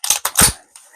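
AR-15 rifle fired offhand at a range: a quick burst of three sharp, loud cracks close together, then a fainter fourth report trailing off.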